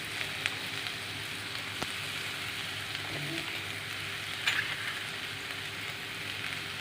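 Asafoetida (hing) dropped into hot oil while making corn upma gives a close, steady frying sizzle, crackling evenly throughout with a few faint clicks and pops.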